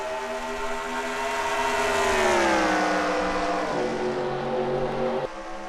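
Race trucks roar around Homestead-Miami in a racing video game, a loud near engine drone climbing and falling in pitch as it revs through the gears, ending in an abrupt drop.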